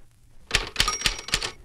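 A typewriter strikes four sharp, evenly spaced keystrokes close up during a touch-typing practice lesson, each clack ringing out alone after a brief quiet start.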